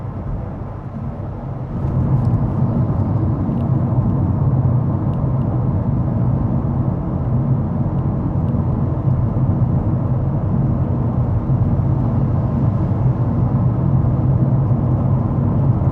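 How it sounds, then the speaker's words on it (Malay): Continental UltraContact 7 tyres humming on the road at about 98 km/h, heard from inside a Proton S70 cabin as a steady, low, even rumble with faint wind hiss and no talking. "Boleh katakan apa yang anda dengar ni hanyalah bunyi tayar bergeser lah."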